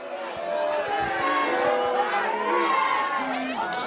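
A school rugby crowd at a first XV match against Northcliff roars and cheers loudly, with shouting voices and excited chatter rising and swelling throughout.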